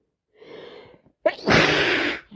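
A person with a bad cold gives a sharp intake of breath, then a loud, wet sneeze. The explosive burst is close and bursts out from near silence before fading.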